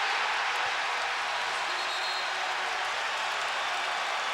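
Steady roar of a basketball arena crowd cheering after a three-pointer in a 2007 NBA playoff game, Warriors against the Mavericks, a dense continuous wash of voices at even loudness with no distinct talk.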